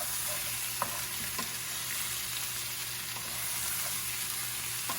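Onions and tomatoes cooking in a pan, a constant close frying hiss with a few soft stirring clicks, no talking.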